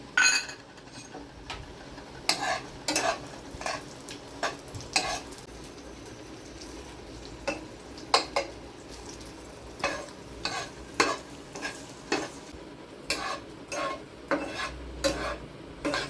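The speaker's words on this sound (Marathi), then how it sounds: "गावरानेच तूप टाकायचं आणि त्याच्यात ते टाकायचं" Dry fruits fry in homemade ghee with a soft, steady sizzle, while a utensil stirs and scrapes the pan in repeated bursts and clinks up close.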